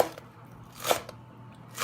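A knife chops scallions on a cutting board, giving a few crisp, separate crunching strikes, close and moderately quiet.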